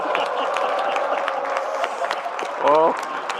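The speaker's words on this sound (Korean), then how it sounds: "이렇게 만들어주신 대통령님께 박수 한번 우리 부탁드리겠습니다" Audience at a regional event applauding on request, steady crowd clapping throughout with voices talking over it and a brief tonal voice burst near the end.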